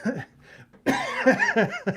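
A short, close cough bursts out after a brief moment of talk, followed by a rough, spluttering catch of the breath.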